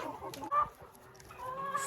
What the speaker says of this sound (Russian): старые курочки